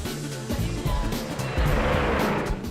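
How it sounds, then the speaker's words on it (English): An oil-engine record car from archival film, a loud engine roar with low rumbling and rising pitch as the car races past, growing stronger toward the end. "You have just seen the world's fastest oil engine car."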